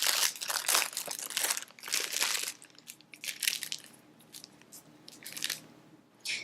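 Avocado frosting is scooped and squeezed into a plastic piping bag, giving close crinkling and squishing bursts in uneven clusters, with short quiet gaps between handling.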